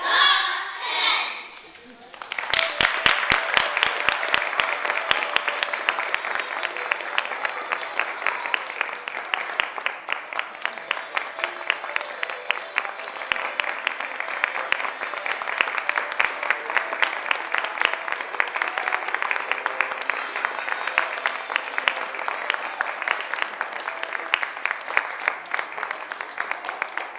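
Sustained audience applause fills the room after a short opening voice, dense steady clapping continuing at even loudness to the end, with a voice briefly heard at the start.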